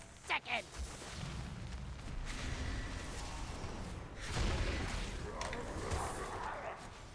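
Video game raid explosions boom and crash in a dense, layered barrage, with sharp blasts early and a heavy swell midway, loud and continuous under a busy battle soundscape.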